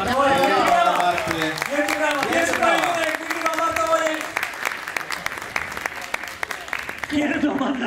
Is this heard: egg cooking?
no